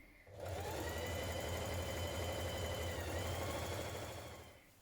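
A sewing machine stitching front and back bodice lining pieces of a frill dress, a steady close mechanical whir that starts abruptly and runs for several seconds before slowing at the end.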